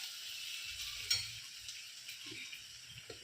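Onion and tomato frying in a pan for soybean curry, a soft steady sizzle with a few faint taps and scrapes of stirring, quiet and close.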